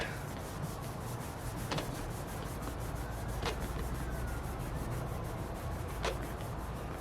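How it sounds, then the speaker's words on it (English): Steady hand rubbing at a car's paint transfer scuff with elbow grease, a continuous close scrubbing hiss with a few brief sharp squeaks, no talking. "You just gotta give it a little elbow grease, and then that paint transfer starts to really come off"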